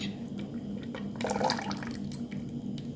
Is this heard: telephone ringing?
no